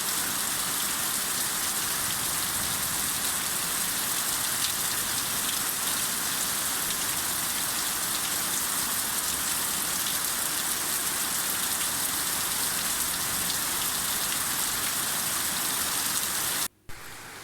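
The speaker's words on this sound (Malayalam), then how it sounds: "ഈ മഴ ഇങ്ങനെ പെയ്യുമ്പോൾ ഇങ്ങനെ കുറേ സമയം ഇങ്ങനെ ആ മഴയുടെ സൗണ്ട് ഇങ്ങനെ കേട്ടിരിക്കാൻ നല്ലൊരു സുഖമായിട്ട്" Heavy rain pouring down steadily outdoors, a dense, continuous hiss of drops striking surfaces at even loudness throughout, with no voices, cutting off abruptly near the end.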